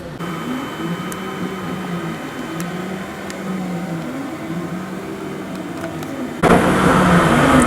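A resin 3D printer that refills its own tank and filters its resin hums steadily with slowly cycling motor tones, loud and close, and a brighter mechanical whir joins near the end.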